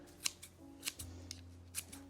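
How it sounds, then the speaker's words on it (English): Herb scissors snip through green onion in a kitchen, a quiet series of about six sharp, crisp cuts spaced unevenly, close and alone with no talking. "These herb scissors, I gotta find the thing, the little comb."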